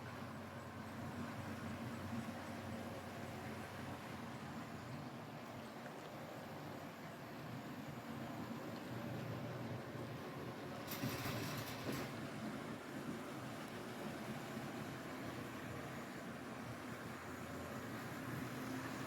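Model train locomotive with a bright headlight emerging from a tunnel on a layout, hauling rock cars; a steady, low rolling rumble and whir runs throughout at moderate level, with a brief brighter hiss partway through.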